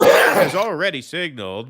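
A single sharp sneeze bursts out at the very start during a televised news segment, loud and close, and is followed at once by continuous talking.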